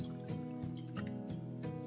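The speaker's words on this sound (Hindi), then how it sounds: "जैसे ही ये गाढ़ा होना शुरू हो, आप इसके अंदर पानी डाल दीजिए" Water poured into thickening shahi halwa in a pan, a steady liquid trickle and dripping with repeated soft splashes, close and continuous.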